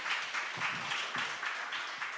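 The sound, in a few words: audience applause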